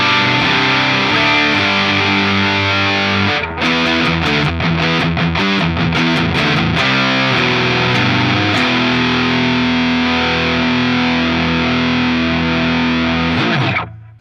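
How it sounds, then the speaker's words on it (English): Electric guitar through a ProCo Rat 2 distortion pedal set to high gain, loud and saturated, with a chugging, choppy middle section of muted strums that gives way to long sustained chords before cutting off. "if we push it up towards 3 o'clock, we get into some really high gain territory"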